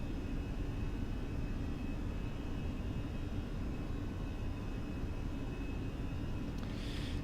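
Fenix A320 airliner climbing out of Quito in Microsoft Flight Simulator during flap retraction, with a steady, even engine and airflow drone inside the cabin that holds constant throughout, with no one talking.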